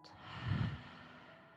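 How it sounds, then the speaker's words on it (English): One slow, deep breath out during a gentle yoga flow, a soft, close, breathy exhale that swells and fades, with no talking. "Let's just take one more deep breath in. And one more deep breath out."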